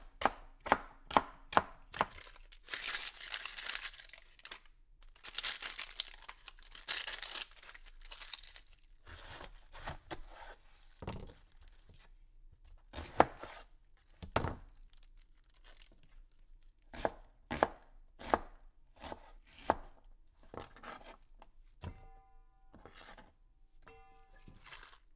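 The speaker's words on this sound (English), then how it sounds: "Again, rough chop." Celery stalks, leaves removed, roughly chopped with a knife on a board: bursts of rapid crisp cuts alternating with single sharp chops and pauses, close and clear.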